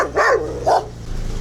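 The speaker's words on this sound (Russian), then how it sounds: "Собаки грызутся?" Dogs scrap near an American truck salvage yard, letting out two loud, sharp barks followed by a softer low growl or whimper, close by and with no talking.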